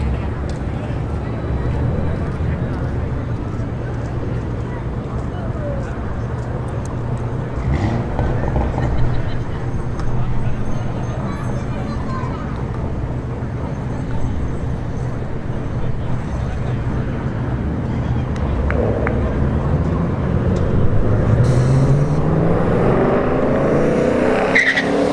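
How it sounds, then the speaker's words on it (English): At a Bradenton Motorsports Park street drag event, an EcoBoost S550 Mustang and a fifth-generation Camaro SS race side by side, with a loud, sustained engine roar, crowd-level background din, and a brief tire squeal toward the end. "we got an EcoBoost S550 Mustang here. And a Camaro SS 5th gen"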